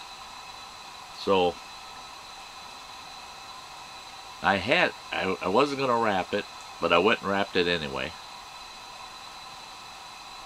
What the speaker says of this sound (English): That Coleman lantern sure is noisy.